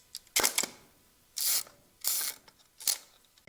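Several mechanical clunks and clicks from a film camera, spaced a second or so apart, each a sharp, close ratcheting snap with quiet gaps between.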